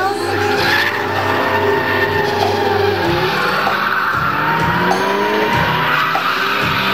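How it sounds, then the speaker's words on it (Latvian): A drift car skids with loud sustained tire squeal at a Latvian Drift Series competition, engine roaring continuously throughout, with a commentator talking over the din. "Bet Lamberts nesagriežās, viņš brauc ļoti pārliecinoši un ātri."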